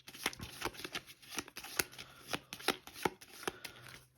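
A deck of playing cards for the Warfighter Shadow War board game is shuffled close up, with rapid, crisp riffling bursts repeating at an irregular pace.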